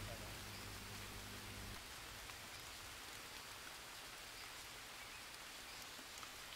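Rainwater drips and patters steadily in a soft, continuous wash, with a brief low hum at the start and no talking.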